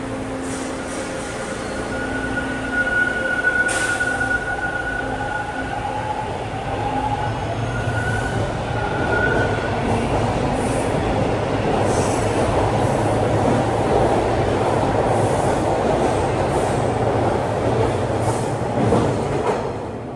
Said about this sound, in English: Here comes a Kipling-bound train into Old Mill.